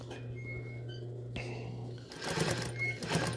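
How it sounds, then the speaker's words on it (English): A home sewing machine stitches around the perimeter of a non-medical fabric face mask, a steady motor hum that briefly pauses and then resumes with busier, louder clattering stitching. "So I'm just sewing around the edge"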